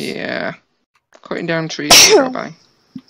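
One loud, sharp sneeze bursts out near the middle, close and sudden, set between bits of casual chatter from a group of players.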